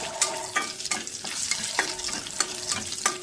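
Sugar and cardamom pods frying in oil over a low flame, with a steady sizzle broken by regular clinks of a stirring utensil against the pan, close and alone.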